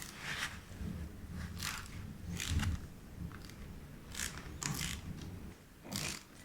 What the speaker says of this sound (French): on va dévisser cette partie-là en faisant attention à ne pas se prendre de l'huile partout